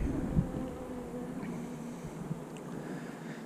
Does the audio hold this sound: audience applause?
no